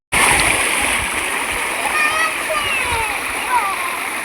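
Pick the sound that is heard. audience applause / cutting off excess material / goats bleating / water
water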